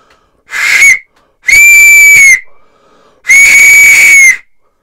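An oak wooden whistle blown hard in three loud, sustained blasts, each a steady shrill tone with bright overtones, separated by short pauses and heard close and alone.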